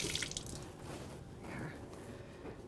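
Chopped tomatillos are rinsed under running water: soft, faint splashing and dripping with light wet squishes, steady and close, no talk.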